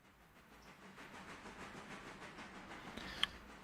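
A passenger train pulls in during the railway video game Railroader, rumbling steadily under a soft steam hiss with faint rhythmic wheel beats and a brief sharp click near the end.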